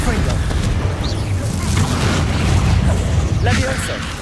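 Spell explosions from Confringo bursting in Hogwarts Legacy, a steady run of booms and pops layered close together with a voice shouting over them.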